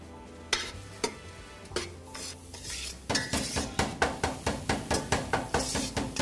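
Onions sautéing in a pan for Uzbek pilaf, with a utensil striking and stirring in a steady run of sharp clinks and scrapes over a soft sizzle, close and clear.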